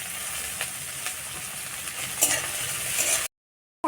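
Chopped onion and dried chili frying in hot mustard oil in a heated kadai, a continuous close sizzle with scraping stir sounds before an abrupt cut to silence.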